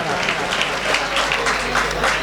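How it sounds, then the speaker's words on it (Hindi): At a poetry recital held during a wedding celebration, the audience claps in warm welcome for a poet, a dense, steady burst of applause from many hands. "कोई भी शख्स कंजूसी न करे इनके इस्तकबाल में तालियां बजाने के लिए"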